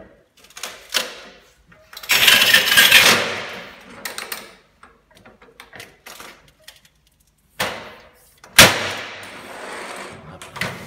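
Tile cut with a manual tile cutter, imitation-parquet ceramic strip about 2 cm wide: scoring scrapes and clicks, then loud sharp snaps and scraping bursts near the start and again later, close by, with quiet gaps between.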